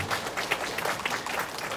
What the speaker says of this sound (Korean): 여러분 격려의 박수 좀 보내주시고